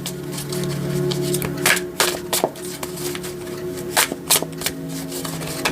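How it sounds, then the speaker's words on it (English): Tarot cards being shuffled by hand and dealt out for a root chakra reading: a steady riffling rustle with sharper snaps and slaps as cards land, repeating irregularly over a low background hum, with no talking. "I'm going to lay out 4 cards for the root chakra"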